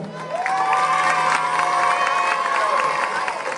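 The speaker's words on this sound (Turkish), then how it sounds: "İkisini de aynı alkışladınız ya." An audience at a Turkish children's show cheers and shouts loudly, with whoops and some clapping, a sustained close roar of mostly young voices that fades slightly at the end.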